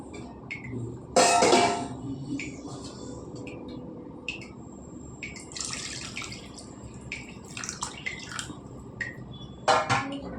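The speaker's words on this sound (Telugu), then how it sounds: "నీళ్ళు వేసుకుందాం ఇవి సరిపడా" Water is poured from a glass into a pot of bottle gourd curry, giving a short splashing burst near the start and another near the end, with faint kitchen clatter in between.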